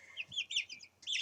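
Chickens give a quick run of high, chirpy clucks, a few short calls spaced close together and then a louder burst at the end, heard alone and fairly quiet.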